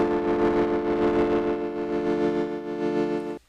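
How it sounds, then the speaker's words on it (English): A pedal applies distortion to a layered soundscape built from sound effects, producing a thick buzzing, sustained drone with rich harmonics that holds steady and then cuts off abruptly near the end. "And let's also add a little bit of distortion."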